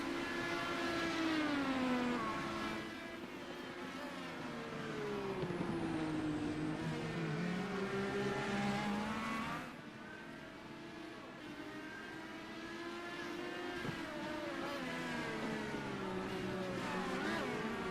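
Indy race cars at a Gulf Coast series event roar through a hairpin, engines dropping sharply in pitch under hard braking from high speed, then climbing again; loud, continuous and close, with overlapping passes and no talk.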